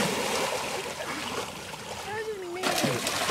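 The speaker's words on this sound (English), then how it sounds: "Look at him trying to swim." A person splashes and flails in water while struggling to swim, with broad continuous splatter and voices talking and calling out over it nearby.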